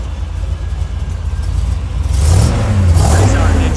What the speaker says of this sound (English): Pretty sound engine.